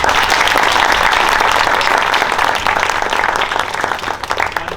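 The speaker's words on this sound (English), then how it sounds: "Give a round of applause for that." Applause from an audience at a school assembly after a Year 4 class performance and singing, a dense, loud, continuous patter of many hands that eases slightly near the end.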